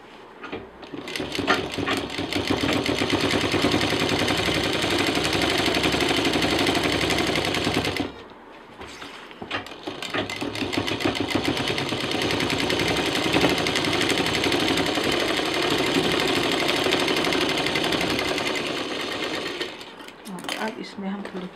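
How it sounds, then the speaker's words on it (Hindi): A sewing machine stitches slowly through several fabric layers of a festive sling bag, a rapid rattling whir that runs for about eight seconds, pauses briefly, then resumes for a long stretch. "और इसमें हमारी कई लेयर हो गई हैं इसलिए बहुत आराम से मशीन चलानी है।"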